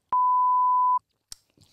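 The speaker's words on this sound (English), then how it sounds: "I've got to bleep that still." A single steady censor bleep, a pure electronic tone held for just under a second, loud and alone, followed by a short faint click and quiet rustle.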